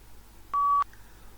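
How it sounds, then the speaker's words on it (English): A single short electronic beep, a clean steady tone lasting about a third of a second, marks the start of recording in a PTE speaking mock test. It sounds alone over a quiet background. "So speak after just beep sound."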